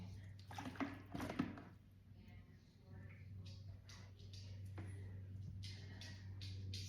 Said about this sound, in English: I'll let this go in here so that it siphons the water.